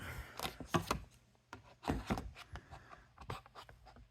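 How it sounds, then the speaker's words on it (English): Paper being cut down to a smaller size for a handmade card: faint, intermittent scraping and snipping strokes in short irregular bursts, quiet and close, with no talking. "So I'm just cutting it a little bit smaller."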